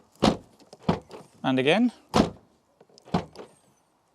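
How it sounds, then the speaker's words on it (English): The boot lid of a Nissan Primera P12 is shut several times, giving sharp close thumps spaced about a second apart, with a brief whirring mechanical sound between them and a short spoken remark. "let's see if we close it, if the boot will now open normally"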